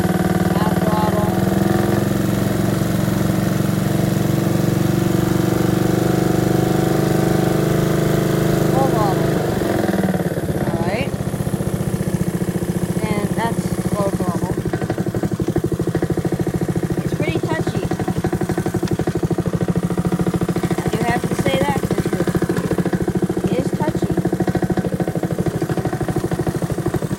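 A Honda HRR216 lawn mower engine runs steadily at half throttle, a continuous mid-pitched drone held close by for the whole stretch, with someone talking over it.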